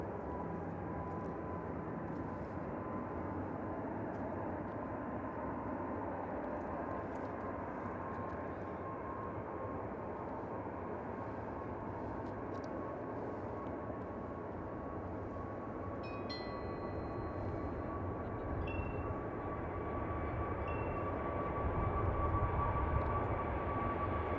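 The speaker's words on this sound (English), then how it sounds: "the next plane to take off is going to be an Airbus A321neo, Jet 2, going to Gran Canaria" A Jet2 Airbus A321neo bound for Gran Canaria takes off, heard from a distance as a steady, broad engine roar that swells louder toward the end, with a faint tone running through it.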